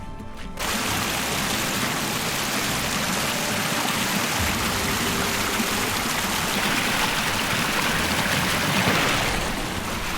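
A moorland river rushes steadily alongside a boggy path, a continuous loud broadband flow of water that holds constant throughout.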